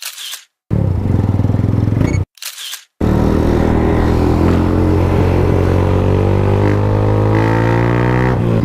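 A Keeway CR152 cafe racer motorcycle engine runs loud and close: two short bursts cut by silence, then a sustained steady idle with a rich harmonic drone that slowly shifts pitch.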